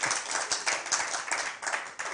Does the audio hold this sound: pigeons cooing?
no